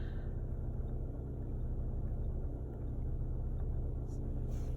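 Inside a Kia ceed 1.6 CRDi diesel with a noisy, failing fuel pump, a steady low engine rumble and hum drones throughout at a constant level, with faint higher ticks late on.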